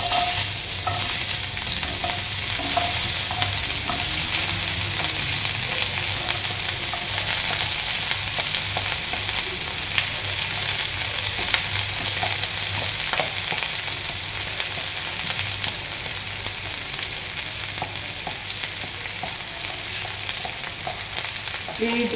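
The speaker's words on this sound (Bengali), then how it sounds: "এখানে আমার তেল অলমোস্ট গরম হয়ে গেছে, তো আমি এখানে দিয়ে দেবো পেঁয়াজ কুচি।" Chopped onions fry in hot oil for a Punjabi-style dal, a loud, continuous close sizzle with occasional stirring scrapes, heard alone without talking.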